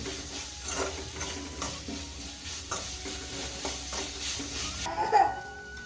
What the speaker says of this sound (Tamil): ஆட் பண்ணி இதோட பச்சை வாசனை போகிற அளவுக்கு நல்லா வதக்கிக்கணும்.